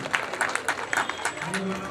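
An audience claps at a certificate and cap presentation ceremony, a dense run of many hands clapping at moderate distance, with voices mixed in.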